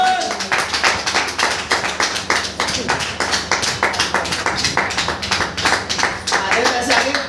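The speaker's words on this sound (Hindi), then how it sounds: "जोर से मारिए ताली आप लोग।" A crowd of people claps in a steady, fast rhythm at a small celebration in Delhi, the beats even and continuous throughout, with voices talking over them.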